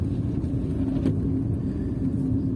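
A car driving along an icy winter road in Canada, giving a steady low rumble of engine and tires that runs without a break and stays fairly close throughout.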